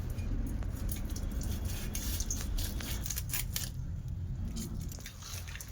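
A large, oily fish is cut with a knife in close, steady wet scraping and crunching, with no talking.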